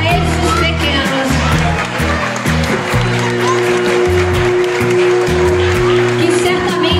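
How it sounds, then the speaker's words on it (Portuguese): Applause from families at a first-year school graduation party, clapping mixed with crowd noise and a sustained musical tone in a busy hall. "Nós gostaríamos de pedir uma salva de palmas"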